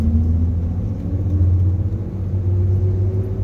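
A 1964 Chevrolet Corvair with automatic transmission, held at steady revs during brake work, gives a low continuous engine rumble whose pitch shifts slightly partway through as the gear changes, close and alone without talk.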